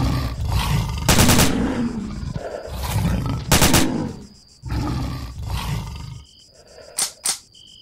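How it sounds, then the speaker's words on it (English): AK rifle gunfire in the S.T.A.L.K.E.R. game, loud sharp bursts of automatic fire recurring across the clip with a deep roaring rumble between shots, ending with two quick isolated cracks. "we just like managed to burn through all that AK ammo"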